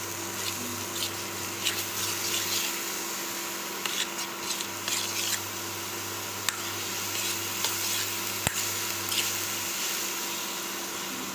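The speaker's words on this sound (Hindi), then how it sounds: "अभी मिक्स कर रहे हैं दोनों को।" Lapsi ingredients being stirred and mixed in a pot, giving a continuous soft sizzle with scraping stirs and occasional sharp clinks of the spoon against the pot.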